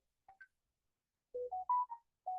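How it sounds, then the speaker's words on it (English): A phone ringtone plays in a classroom as a short melodic sequence of clean electronic tones, two brief notes followed by a pause and then a run of five sustained beeps, quiet and isolated. "get rid of that ringtone"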